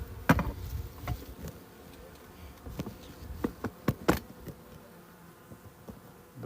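Honeybees hum around a hive in mid-December in Durrës on a warm day, a quiet, low buzzing broken by individual bees droning close past the microphone in short louder bursts.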